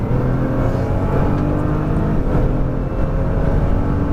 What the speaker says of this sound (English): As you unwind, more throttle, full throttle for the straightaway.